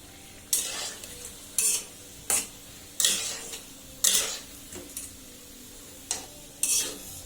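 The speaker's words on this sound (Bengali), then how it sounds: "নামানোর আগে আর একটু ভাজা হবে," Food frying in a pan on a stove is stirred and scraped, making about nine sharp, spaced metallic clatters over a low background sizzle.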